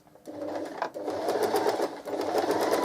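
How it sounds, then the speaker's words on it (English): A sewing machine runs a continuous seam down one side of a half-square-triangle quilt block, its fast needle hum steady and close, with a short dip before it resumes. "we're going to sew all the way down one side"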